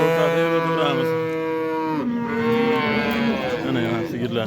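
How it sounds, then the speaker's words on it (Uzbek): Cattle at a livestock market in Buvayda district, Fergana, moo loudly and continuously, a long sustained low call sliding in pitch, close to the microphone. "Mana sigirlar."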